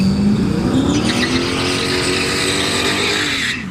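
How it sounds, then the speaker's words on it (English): A Dodge Charger race car makes a hot lap at a drag strip, its engine roaring loud and close with a rising, steady drone that holds for several seconds before dropping off at the end. "we got the Charger hot lapping"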